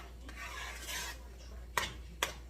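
Cheese sauce for smoked salmon baked mac and cheese being stirred in a pot, a soft continuous scraping and swishing with two sharper utensil clinks against the pan near the end, close and alone.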